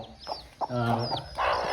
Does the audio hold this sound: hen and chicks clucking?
yes